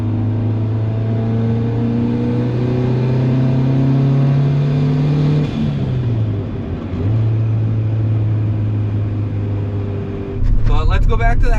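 Turbocharged Honda Civic accelerating on a tuning drive: a loud engine drone climbs steadily in pitch for about five seconds, drops off, then rises again, with brief speech-like sounds near the end.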